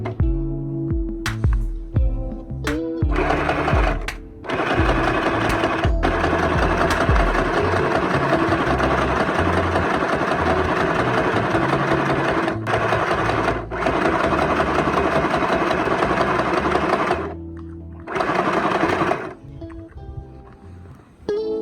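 A Riino dual-speed multifunctional sewing machine stitches fabric in long, steady runs, its close mechanical whir stopping briefly and starting again, with a few clicks and handling sounds at the start and end.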